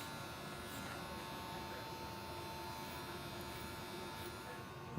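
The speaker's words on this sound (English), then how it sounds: "Little clipper over comb action." Electric hair clippers buzz steadily at a barbershop, working clipper over comb with a constant, close hum and no break for the whole stretch.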